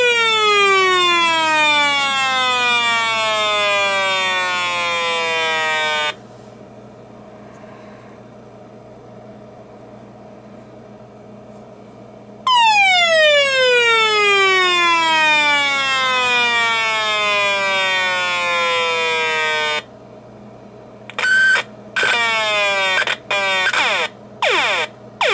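A children's toy audio frequency generator puts out loud, sweeping modulated tones in repeated falling glides, drops to near silence between bursts, then ends with a series of rapid, choppy stuttering pulses.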